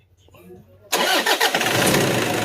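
A car engine cranks and catches after a bearing replacement, then settles into a loud, steady idle close by.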